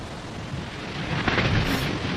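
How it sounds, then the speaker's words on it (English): A heavy thunderstorm with broad, continuous rumbling and rain-like noise that swells slightly louder toward the end, steady and enveloping with no voices. "the weather service reports that the peak of the storm is about to hit"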